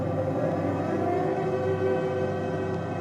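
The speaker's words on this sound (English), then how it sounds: "At 33 minutes past 12, the sirens sound." Wartime air raid sirens wailing over Hamburg at night during the Second World War, a sustained steady tone with faint rumbling underneath and no talking.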